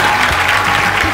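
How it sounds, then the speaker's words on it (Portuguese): A live comedy show audience applauds for two guests, a dense continuous patter of clapping that stays loud and even from start to finish, with faint low murmurs of a voice underneath. "Senhoras e senhores, palmas aqui pra Júlia! Palmas aqui pro Lucas!"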